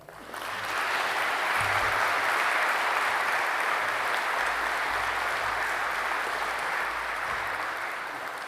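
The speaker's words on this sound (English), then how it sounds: "Can you please clap your hands to welcome" An audience claps to welcome a speaker at the Lowitja O'Donoghue Oration, rising quickly into sustained, full applause from a large hall that tapers slightly near the end.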